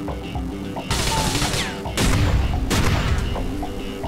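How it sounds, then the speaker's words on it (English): Gunfire bursts out in GTA: The Ballad of Gay Tony, with loud repeated shots and crashing impacts arriving in dense waves from about the one-second mark, while game effects rumble underneath. "Shooting now."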